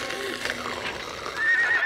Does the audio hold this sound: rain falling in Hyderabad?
no